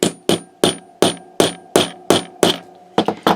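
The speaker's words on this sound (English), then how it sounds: "I've got this adorable little hammer" A small hammer strikes a metal hole punch set on leather, giving nine sharp metallic taps at a steady pace, close and loud, with the last few coming quicker together.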